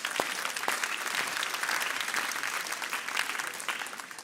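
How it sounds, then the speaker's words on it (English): An audience at a Cardano blockchain summit award ceremony applauds the nominees, a dense, steady wash of clapping lasting several seconds, with a few sharp claps standing out near the start. "A round of applause for our nominees."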